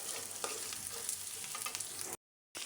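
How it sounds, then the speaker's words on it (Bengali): Food sizzles and crackles steadily as it is fried in a pan until reddish, with occasional stirring scrapes close by, before a brief gap of silence near the end. "আর এখানে আমি লাল লাল করে ভেজে নিচ্ছি"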